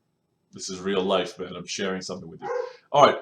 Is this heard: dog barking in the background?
yes